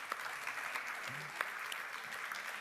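An audience at a conference on eco-adventure and sport applauds a late-arriving guest, a steady patter of clapping held at a moderate, even level for a couple of seconds.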